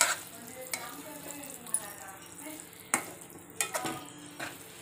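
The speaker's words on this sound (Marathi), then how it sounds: "आता आपल्याला 2-3 मिनटं ह्याला अशी परतून घ्यायची आहे." Okra masala being stir-fried in a pan with coriander-cumin powder, a soft steady sizzle broken by a few sharp scrapes and clinks of the spoon against the pan.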